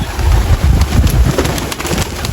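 Pigeons settling onto a ledge at night give a dense, busy flurry of sound over a low rumble, steady and fairly loud throughout with no voices.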